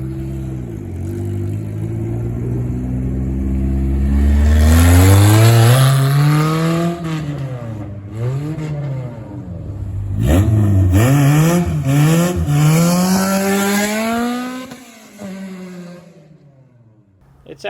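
Honda Civic EF track car engine revved hard, pitch sweeping up and down through several loud rising and falling pulls, close by, with a final sharp rev before it cuts off.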